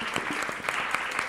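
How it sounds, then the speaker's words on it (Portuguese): A class of music students applauding their teacher during a reggae percussion lesson, a short burst of brisk group clapping with individual claps popping out of the dense, even patter. "Salve de palmas para o professor Fabrício."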